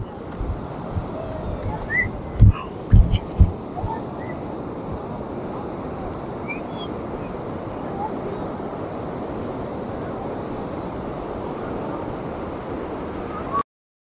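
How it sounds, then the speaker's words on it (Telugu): Sea waves wash onto Vagator Beach, Goa, in a continuous low roar with wind. A few soft bumps sound early on. "చూడండి అలలు ఎక్కడ వస్తున్నాయి."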